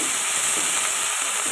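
Papaya peels hit hot oil alongside browned onions, giving a steady, close, dense sizzle and crackle with no pauses and no voices.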